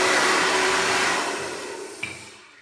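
A hair dryer runs loud and steady while drying long hair, a continuous blowing whine that gradually fades and ends with a brief click.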